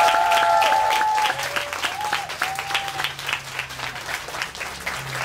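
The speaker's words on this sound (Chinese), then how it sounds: "那我们再次热烈掌声来谢谢拔濑跟马步" Indoor audience at a book-shop talk event breaks into warm applause, a dense clatter of many hands that starts strong and softens slightly while continuing, with brief whistling tones early on.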